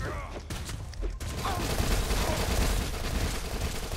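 Rapid submachine gun fire in the zombie shooter Dead Nation, a dense, continuous crackle of shots blended with loud game effects and no clear pauses.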